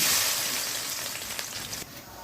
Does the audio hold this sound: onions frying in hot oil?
yes